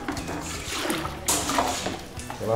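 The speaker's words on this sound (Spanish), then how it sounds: "Se va separando con un colador para que no se vayan los grumos de queso en el suero." Whey from fresh Oaxaca cheese curds splashing and trickling through a kitchen strainer, a steady wet sloshing and dribbling with a brief brighter splash midway, close and moderately loud, no talking.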